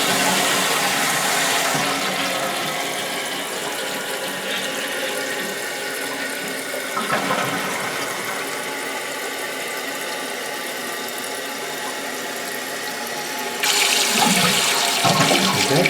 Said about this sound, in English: It should come up and let the water drain out by itself.